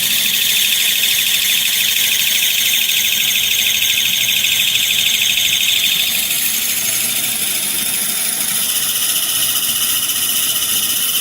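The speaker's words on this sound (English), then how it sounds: "As you can hear, as the voltage keeps increasing, the speed of the motor keeps increasing." Two Johnson DC geared motors run with a loud, continuous high-pitched whine, the pitch climbing steadily as the voltage rises.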